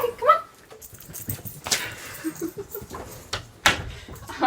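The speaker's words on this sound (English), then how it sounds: "You probably want to get let out. I'm going to let Becca out the door real quick" A pet dog whimpers and yips near a door at home, wanting to be let out. High, thin whines come in short bursts along with a few thuds and door noises, with a person talking briefly.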